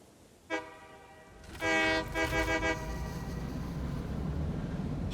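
Train horn in the video game Satisfactory: a brief toot, then a longer loud blast that wavers for about a second, followed by a low rumbling hum.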